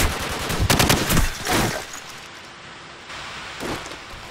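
Rapid automatic gunfire in a Call of Duty 4 hardcore team deathmatch rattles in short bursts near the start, then trails off into quieter, scattered shots over a steady hiss.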